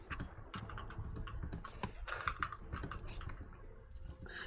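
Rapid mouse spam clicking during a Spider Queen fight in a LU speedrun, a dense run of quick, close clicks in an uneven rhythm with no talk.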